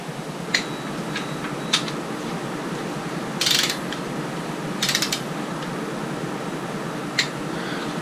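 Ratchet wrench clicks, then a few short bursts of ratcheting as engine bolts on a Cub Lo-Boy 154 engine are torqued down during reassembly, close and fairly quiet over a light background hiss.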